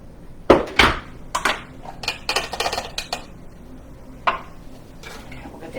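Chopped onions are scraped from a Pampered Chef food chopper into a pan, making a series of irregular clacks, taps and scrapes of plastic and metal, close and fairly loud, with no talking.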